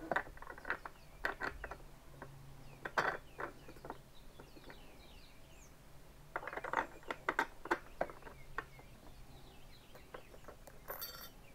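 Bolts and metal hardware being fitted by hand onto a solar street light mount outdoors near a pig area, with scattered clicks and ratcheting clatters in two busy bursts and a rooster faintly clucking nearby.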